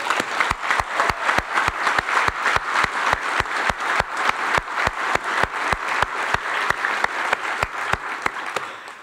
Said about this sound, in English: Now that's worth a roar of applause